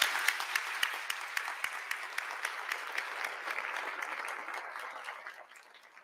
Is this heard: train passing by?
no